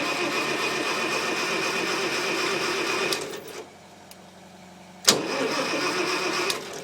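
An old farm tractor's gasoline engine running steadily and loud, then cutting out briefly before it catches again with a sharp burst and resumes its mechanical chatter.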